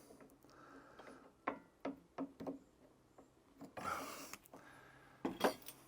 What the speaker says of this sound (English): I'm going to get my stubby nose pliers out. I'm just going to put the clip back on.